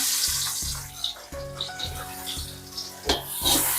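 Sliced onions tipped into hot oil in a wide pan, giving a steady loud sizzle and bubbling with repeated stirring scrapes and clatters throughout, no voices.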